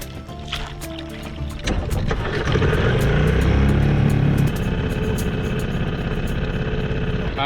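A small fishing boat's outboard engine drones steadily as it motors out of Half Moon Bay harbor in California, rising in loudness after a few seconds and then holding a rough, continuous hum with water noise.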